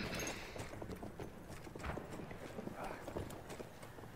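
Horse hooves clip-clop at a gallop in the World War I shooter Battlefield 1, a steady run of hoofbeats mixed with game noise throughout.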